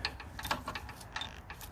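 A press ratchets and clicks as its socket is lowered onto old, brittle copper wire to strip the insulation. The mechanical ticks are quick and fairly faint, close by and with no talking.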